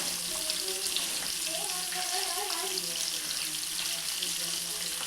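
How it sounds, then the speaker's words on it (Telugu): Fish pieces fry in a pan over a gas flame, giving a constant close hiss and sizzle of hot oil that holds steady throughout, with faint voices in the background. "మంచిగా ఫ్రై అయ్యేదాకా ఫ్రై చేసుకోవాలి"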